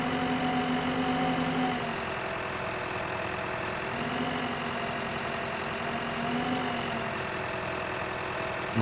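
A tractor engine in Farming Simulator 15 runs at a steady, fairly loud idle with a constant mid-pitched drone and faint knocking, holding unchanged throughout with no one speaking.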